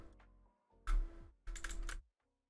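Two short bursts of rapid keyboard typing while entering script options, each about half a second long, close and clear with a quiet pause between them and no talking.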